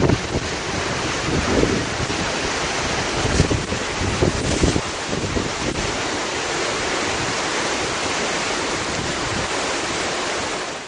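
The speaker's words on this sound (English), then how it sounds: "There's a 20-second video of just a beach." Ocean waves and wind on a beach, a steady roaring wash of surf with gusty wind buffeting the microphone, loud and continuous throughout, no voices.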